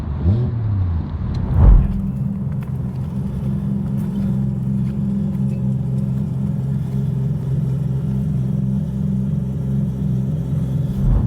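A turbocharged three-rotor rotary engine in a Mazda RX-7 idles with a steady deep drone after a brief rev near the start, loud and close.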